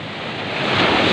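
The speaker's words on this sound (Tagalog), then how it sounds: "Oh, lumaki-laki na yung alon." Ocean waves wash onto a beach, a brief, loud rushing surge that builds toward the end, with wind buffeting the microphone.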